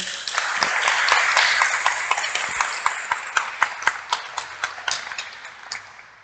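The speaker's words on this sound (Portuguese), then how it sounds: "eu gostaria de uma salva de palmas para vocês nesse momento" Lecture audience claps at a parent talk, starting as dense applause and thinning into scattered, distinct individual claps that taper off toward the end.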